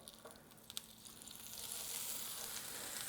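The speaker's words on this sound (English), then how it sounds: "now we're going to butter up our griddle" Butter sizzles on a hot griddle, a steady hiss that swells and grows louder partway through, with a couple of small clicks early on.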